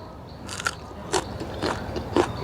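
Someone bites into a whole raw string bean, giving a few soft crisp crunches close to the mic, spaced about half a second apart, with quiet room noise between.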